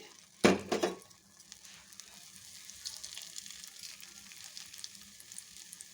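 Small portions of batter dropped into hot oil for a raw mango dal dish, a sharp brief burst of crackling followed by a soft, steady sizzle in the background.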